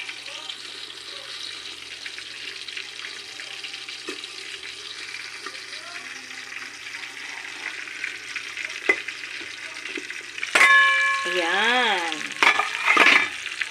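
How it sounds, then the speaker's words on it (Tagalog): Fish frying in a pan with a faint, continuous sizzle and occasional light taps. Near the end come a louder clatter and a brief run of electronic tones, and a voice speaks briefly. "Dito naman ako sa aking piniprito."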